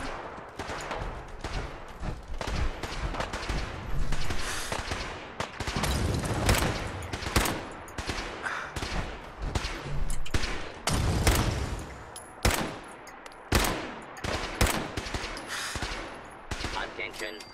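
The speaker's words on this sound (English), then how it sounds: "There's an all-out gun war going on over here." A Fallout 4 gun battle, dense gunfire with rapid bursts and single loud shots cracking in irregular clusters, close and sustained, with machine-gun rattles over a noisy combat background.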